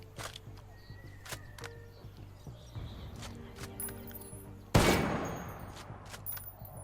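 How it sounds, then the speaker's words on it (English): Sniper rifle, the MSR, fired at a wall in Ghost Recon Wildlands: several sharp in-game gunshots spaced apart, the loudest burst near the end trailing off with reverb, over steady game ambience. "let's get a basic feel for it and fire some shots at this wall"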